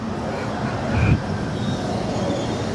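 LA Metro train at the underground 7th Street/Metro Center station, heard as a steady rumbling rail roar with a brief louder swell and faint wheel squeal, no talk.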